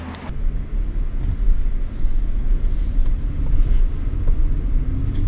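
A 2019 Chevrolet Colorado ZR2 pickup truck in orange driving on the road, a steady low engine and tyre rumble from inside the cab with no talk.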